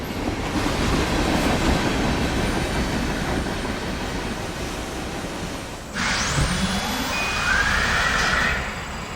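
A Norfolk Southern freight train rumbles along the rails with a steady roar, then metal wheels squeal loudly partway through as it slows into a passing siding.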